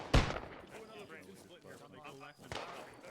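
A sharp gunshot from the military shooter Arma 3 cracks out loudly near the start, followed by a second, softer report about two seconds later, with voices talking throughout.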